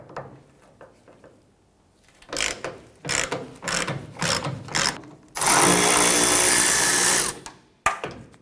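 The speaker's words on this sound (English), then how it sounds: "Using a T40 Torx bit, we're going to go ahead and remove this screw here and this one here." A power tool with a T40 Torx bit backs screws out of a 1994-2004 Chevy S10 tailgate hinge. Several short whirring bursts are followed by a longer, loud spin of about two seconds, then a brief final click.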